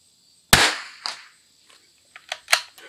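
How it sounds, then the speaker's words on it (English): Gunfire at a busy shooting range, with one sharp, loud shot followed by several fainter, more distant reports at irregular intervals. "As you can hear, this is an active range, a lot of people waiting on it"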